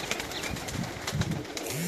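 Pigeons at a large loft in Pakistan, with soft low cooing and bursts of wing flapping over a hissy outdoor background, moderately close.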